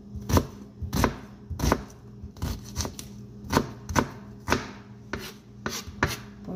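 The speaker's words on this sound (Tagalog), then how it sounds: "hiwain ko muna itong kamatis at sibuyas" A knife slices tomato and onion on a cutting board with about a dozen steady, close thuds spaced roughly half a second apart, each stroke crisp and fairly loud, with no one speaking.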